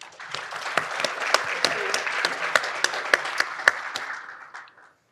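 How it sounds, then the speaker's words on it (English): Audience applause at a public forum on museum and arts funding in Wisconsin, greeting the president and CEO of the Milwaukee Public Museum: a dense, steady clatter of many hands with sharp individual claps, fading out near the end. "If we can give her a round of applause."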